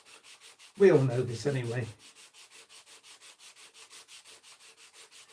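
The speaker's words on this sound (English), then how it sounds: "I'm sanding this, but I'm not sanding the ribs" Steady rhythmic strokes of a sanding block on wood along a model airplane build with masking tape over the ribs, repeating evenly and softly throughout, with a brief stretch of speech over them.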